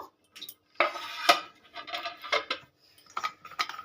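A lid being lifted off a pot of steamed rice-flour and coconut bowl pitha, with a run of close metallic clinks, scrapes and taps in irregular bursts separated by brief silences.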